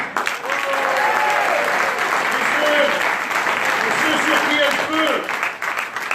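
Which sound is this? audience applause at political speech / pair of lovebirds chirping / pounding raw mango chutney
audience applause at political speech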